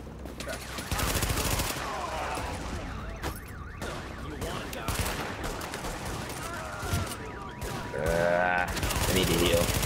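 Rapid gunfire bursts from the video game The Division, dense automatic shooting mixed with game effects and alarm-like tones, with players talking over the action.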